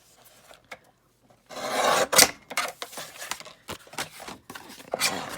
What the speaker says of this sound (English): I love this chopper, but it does make a lot of noise.